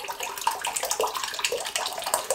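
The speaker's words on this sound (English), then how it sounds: "look how much water comes out of that" Water pouring and splashing out of a heated metal can, a steady close trickling gush with small irregular spatters, no talk.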